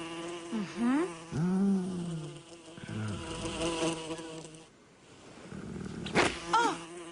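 Cartoon flies buzz around horses, a droning insect whine heard alongside whinnying and snorting horse sounds, moderately loud and continuous.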